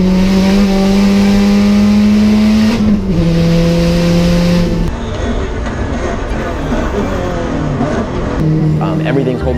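The number 626 Airlift Performance Subaru STI race car drives at the Super Lap Battle 2020 time attack, its engine droning loudly at a steady pitch, then shifting and dropping before revving again, with talking over it throughout.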